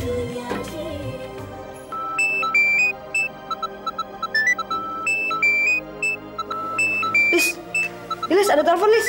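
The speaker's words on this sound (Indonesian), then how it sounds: "Lis, ada telepon, Lis." A telephone rings in a melodic beeping pattern of repeated electronic tones that run through most of the passage, fairly loud, with voices speaking over parts of it.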